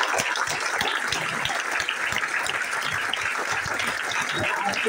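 An audience claps hands at a direct-selling management event in Thane, with dense, continuous applause that holds steady throughout, loud and near.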